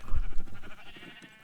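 A short sheep bleat in a video game, one wavering call lasting about a second, close and moderately loud.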